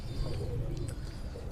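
Low, soft cooing from a Sialkoti pigeon of an old bloodline, a steady murmur filling the short stretch at close range with no talk over it.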